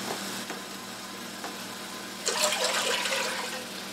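A faint mechanical hum runs throughout, then four cups of water start pouring into a pot in a steady splashing rush, loud and near, lasting to the end.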